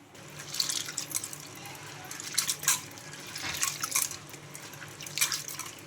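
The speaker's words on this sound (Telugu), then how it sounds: "ఇంకా ఇలా బాగా వాష్ చేసుకోవాలి మనకు ఏమైనా డస్ట్ ఉన్నా కూడా ఈజీగా వచ్చేస్తుందండి" Black-eyed peas are washed by hand in water, giving faint, continuous swishing and dripping with scattered brighter splashes.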